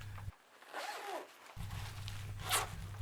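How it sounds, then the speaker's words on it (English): A zipper runs along a quilted liner inside a winter riding jacket, a close rasping pull with a short scratchy burst near the end, over a low steady hum. "you got a quilted liner inside, zips from the left to the right"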